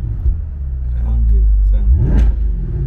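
A 2022 Chevrolet C8 Corvette convertible, still in its first 500 break-in miles, rumbles and revs close by with a sharp exhaust pop near the end, while voices talk over the engine.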